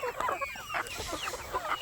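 Backyard chickens raised from eggs cluck and squawk in a close, busy flock, with several overlapping calls in quick succession.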